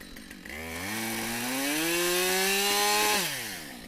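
A Husqvarna 572XP chainsaw revs up and bites into wood while limbing a felled tree, its engine note climbing steadily and holding loud and close before dropping off near the end, with no talking over it.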